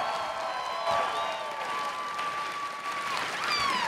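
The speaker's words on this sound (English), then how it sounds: "Give him a huge round of applause for setting this whole thing and getting this all together." Applause from an audience at a dance competition, a steady wash of clapping and crowd noise with a few whoops, fairly distant and continuous throughout.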